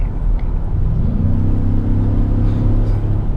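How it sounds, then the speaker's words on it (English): A Ford F-150 King Ranch pickup drops from tenth to third gear, and its engine rises into a loud, close, droning rev that holds steady over a deep rumble. "when I kind of punched the pedal a little bit, it went down to 3rd gear right away"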